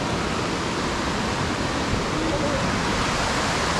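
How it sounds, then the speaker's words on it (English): Sipyen Waterfall on Kosrae roars with a dense, steady, unbroken rush of falling water that fills the whole scene at close range. "Welcome to Sipyen Waterfall."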